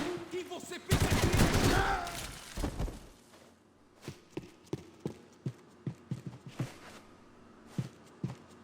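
Gunfire in the video game Max Payne 3: a dense, loud burst of shots followed by a series of sharp, evenly spaced single shots, with voices briefly audible.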